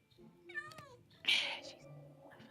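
Two short video game cat meows, the first higher and whiny, the second louder and brighter, heard close with little else around.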